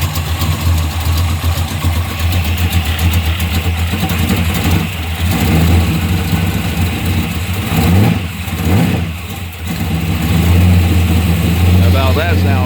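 Drag car engine idling with its timing slightly off, a loud, lumpy, uneven rumble heard from the back of the car, with a couple of brief blips around the middle and speech mixed in.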